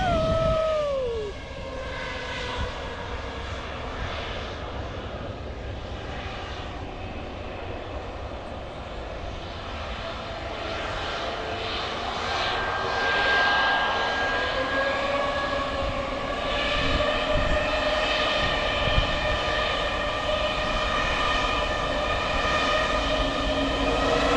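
A loud, sustained airplane engine drone with rising and falling whines and tonal hum, continuous and close for the whole stretch.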